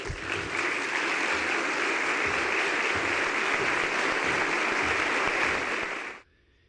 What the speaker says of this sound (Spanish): Le mandamos desde aquí nuestro corazón en un aplauso.